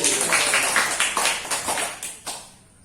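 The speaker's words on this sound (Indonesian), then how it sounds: "Oke, tepuk tangan dulu" A small audience gives a short burst of applause at a talk, the clapping swelling briefly, then breaking into a few scattered claps before fading out.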